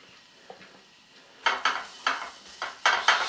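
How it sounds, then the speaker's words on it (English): Food for Italian beef sandwiches cooking in a pan over a flame, heard as a series of close scraping and clattering stirs and utensil hits, about six strong strokes after a quiet start. "Starting to sizzle a little bit."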